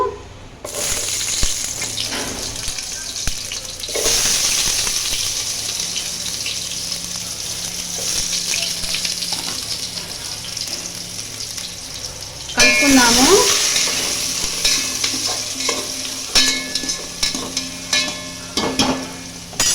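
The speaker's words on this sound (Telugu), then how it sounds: "వేడయ్యాక మనం కట్ చేసుకున్న ఉల్లిపాయ ముక్కలు వేసుకుందాము" Chopped onion pieces tipped into hot oil for paneer dum biryani, giving a steady broadband sizzle that surges when they hit the pan around the middle, with occasional stirring clatter.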